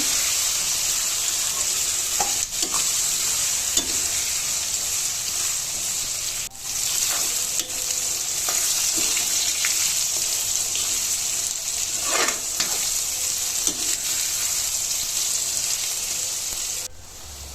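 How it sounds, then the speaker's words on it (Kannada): Eggplant pieces frying in a pan for vangibath give a steady, loud sizzle throughout, with occasional clinks and scrapes of stirring on top and no talking. "ಬದನೆಕಾಯಿನೂ ಅಷ್ಟೇ ಚೆನ್ನಾಗಿ ಫ್ರೈ ಮಾಡಬೇಕು"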